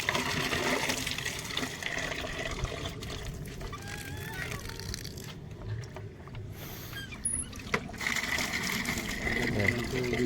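Water gushes from a deep-well hand pump in a steady, noisy rush while people talk nearby.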